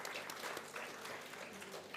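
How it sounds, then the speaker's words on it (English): Sustained applause from an audience at a school science exhibition and science show, a dense, steady wash of many hands clapping that fills the whole stretch without pause. "So it's a big round of applause for sir."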